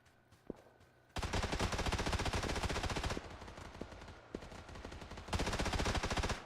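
Rapid automatic gunfire from the video game PUBG, played on console in a duos match: dense, loud bursts of shots that start after a second, pause briefly mid-clip, then resume in long continuous strings.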